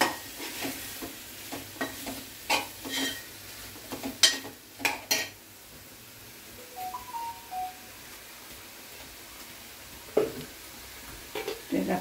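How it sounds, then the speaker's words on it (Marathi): Onion and coconut paste for a kolumbi (prawn) masala goes into a hot pan, sizzling softly while a spoon scrapes and stirs in irregular strokes, with a few sharper clinks against the metal. "तर आपण कांदा खोबऱ्याचं जे वाटप तयार केलेलं आहे ते आपण टाकत आहोत"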